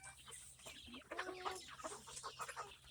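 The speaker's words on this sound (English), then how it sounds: "Rooster." A rooster at a farm clucking and crowing among fowl, several throaty calls in quick succession at moderate distance over a low steady background hum.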